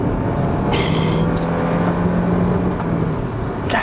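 A Honda Accord Euro sedan engine revs out, a loud continuous roar with a rising pitch sweep that holds, then eases slightly toward the end.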